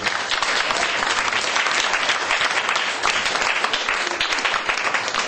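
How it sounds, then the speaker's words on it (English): Dense, sustained round of applause from a dinner audience at a book launch event, loud and steady throughout with no talking over it. "can we give ourselves a huge round of applause?"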